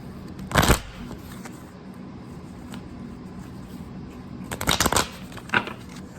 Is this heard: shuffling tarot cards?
yes